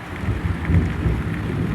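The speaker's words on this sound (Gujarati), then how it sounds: "અત્યારે વરસાદ ગાજે છે" Thunder rumbling during heavy rain over flooded farm fields, a low continuous roll mixed with the steady hiss of rainfall, fairly loud and close.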